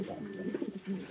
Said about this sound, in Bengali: কবুতর, এগুলো হচ্ছে কবুতর